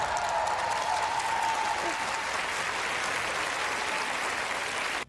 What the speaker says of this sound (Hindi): स्टेडियम तालियों की गड़गड़ाहट से गूंज उठा।